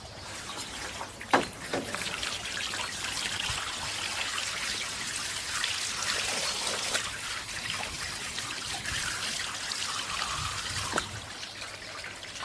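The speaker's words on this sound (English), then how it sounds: "We see that the water flow into the gutter is undisturbed, even when the cover is covered with fir needles" Water streams steadily into a gutter, washing fir needles along with a soft, continuous trickling rush and a few faint splashes.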